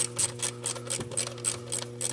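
A ratchet clicks steadily at close range while an ignition coil bolt is tightened on a Ford 5.4L engine, the evenly spaced ticks running throughout.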